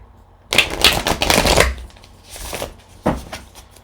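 A tarot card is pulled and handled from a deck: crisp papery riffling and slapping bursts in the first second, then softer card rustles and a final sharp snap, close and alone with no talk.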